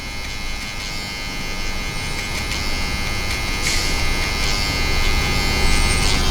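Steady electric buzz of a T-line hair trimmer nipping at a line during a comb over fade with hard part, continuous and close, holding a fairly even level throughout with no talking.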